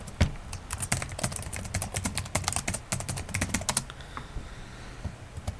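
A file name being typed on a computer keyboard, a quick close run of key clicks for about four seconds that then stops, with no talking.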